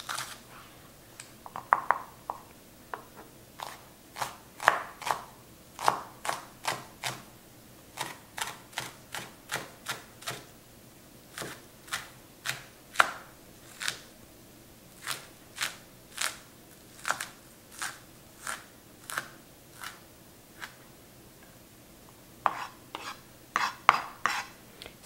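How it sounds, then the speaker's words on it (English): A knife chops and slices on a cutting board while ingredients are prepared for pork meatballs, with sharp, close, irregular taps in quick runs and short pauses, no talking. "I'll cut them in half and then slice them again."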